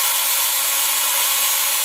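A drill bit reams out the inside of a piece of PTFE tubing, giving a steady, close grinding hiss that holds at an even level for about two seconds, with no voices.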